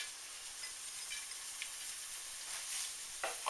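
Garlic dropped into melted butter sizzles in a pan for a garlic Alfredo shrimp bake, a steady faint fizzing hiss with a few soft crackles near the end.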